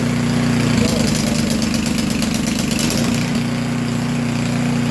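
A snowblower engine catches and settles into a steady mid-pitched idle, a loud continuous chugging run with a brief rougher surge near the start.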